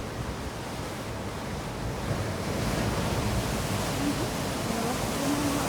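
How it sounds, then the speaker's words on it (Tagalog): Big ocean waves crashing on a church beach in Bermuda, a continuous loud roaring wash of surf that swells slightly midway, with wind noise. "Lalaki ng mga alon. Grabe."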